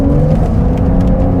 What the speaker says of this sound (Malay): Itu bukan bunyi exhaust, itu adalah bunyi enjin,